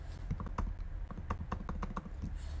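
Command typed on a computer keyboard, a quick irregular run of close, crisp key clicks with no talking.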